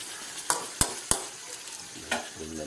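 Marinated chicken hits a pan of frying garlic, ginger and onion for tinola, giving a steady sizzle broken by several sharp clinks of a utensil against the pan, close and clear with no talking.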